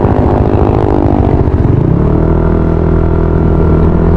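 Motorcycle fitted with an opened-up JBT aftermarket exhaust pipe, loud and close, rumbling and clattering at idle with a few throttle blips before settling into a steady low drone.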